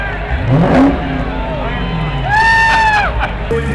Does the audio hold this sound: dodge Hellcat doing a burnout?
yes